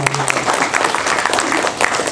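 A crowd applauds at a film trailer launch event, a dense, steady patter of many hands clapping at once.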